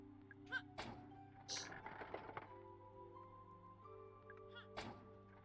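A few dull thunks from kicking an object in the video game Crow Country, sharp knocks against a low steady hum, spaced irregularly and fairly quiet.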